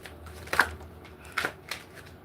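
Tarot cards being shuffled during a love reading: three brief papery riffles at a steady pace, close and moderately loud, with quiet room tone between.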